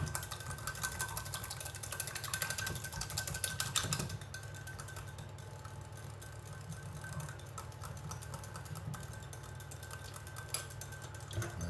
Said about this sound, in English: So we'll change and we'll start using the whisk.